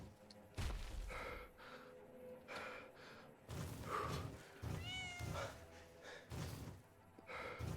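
A cat meows several times in the game Fallout, its cries scattered among gasps, sighs and other faint in-game sounds at a moderate distance.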